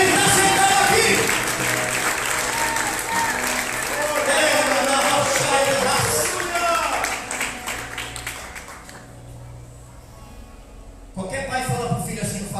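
Congregation applauding during a church sermon, a sustained wash of clapping with voices and music mixed underneath, fading toward the end before a brief swell returns.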